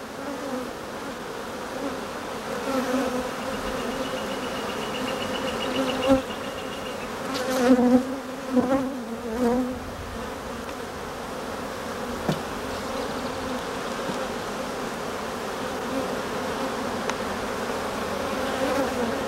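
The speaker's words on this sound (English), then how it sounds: "this is another nice frame of what we call brood, and it's full of bees" A dense, steady hum of many honeybees buzzing up close on a brood frame, continuous throughout with a few louder passes and small bumps.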